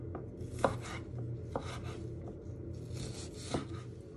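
A knife chops food on a cutting board in a few firm close knocks with soft scraping and rubbing between them, no voices present.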